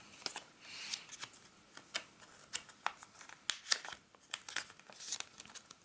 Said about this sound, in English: I'm going to fold it in on itself.